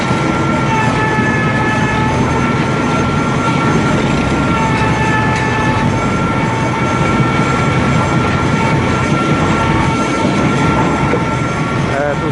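A mobile log peeling and debarking machine runs continuously, a loud mechanical rumble and grinding drone with rattling and clanking that holds steady throughout.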